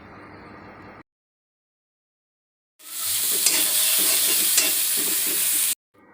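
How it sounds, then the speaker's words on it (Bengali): Potatoes frying in a hot wok are stirred, bringing a loud burst of sizzling with scraping strokes, after a short faint stretch and a silent gap, then a sudden stop. "এখন আমি আবার ঢাকনাটা তুলে আলুগুলোকে নেড়ে ছেড়ে আবারও ঢেকে দিব"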